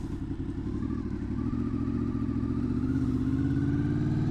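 A motorcycle pulls away at low speed, its engine a steady low drone that rises gently as it moves off, close and continuous with no talk.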